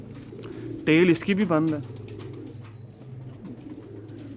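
A pure-breed pigeon coos while held in the hand, giving a close, loud burst of throaty warbling coos for about a second, with someone talking over and around it.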